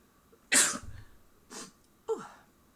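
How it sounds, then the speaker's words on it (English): A person sneezes sharply once, then gives two smaller follow-up bursts, close and loud in a quiet room with no talking. "I'm going to sneeze."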